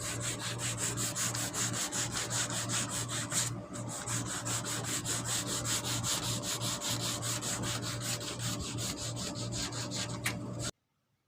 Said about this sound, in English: Now I'm just going to take my sandpaper off here and I'm going to fold it in half and get in this groove.